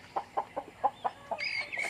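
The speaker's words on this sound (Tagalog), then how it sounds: "naaway mo yung manok" A chicken clucks in a quick series of short, fairly close calls, followed by a higher, drawn-out squawk at the end.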